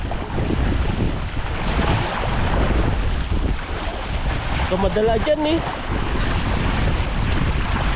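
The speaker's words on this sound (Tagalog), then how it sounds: "Ang lakas ng hangin." Strong wind roars across open water with steady broadband rush and splashing, while a voice speaks briefly near the middle.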